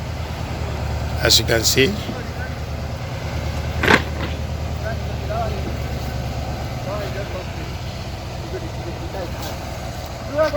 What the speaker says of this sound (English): The trucks just keep coming,